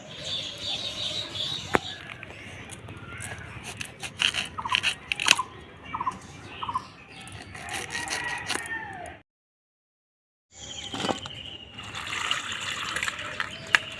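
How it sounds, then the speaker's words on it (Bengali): Mangoes are rinsed by hand in water, with intermittent splashing, sloshing and knocking of fruit against a container, close and fairly quiet, broken by a brief silent gap near the end. "ভালো করে আমটা ধুয়ে নেব"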